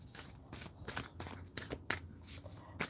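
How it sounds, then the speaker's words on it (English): Tarot cards being shuffled by hand, a steady series of crisp riffling and flicking bursts, close and fairly quiet, with no talking. "I'm going to split and shuffle too because I really like these cards to get like a good mix"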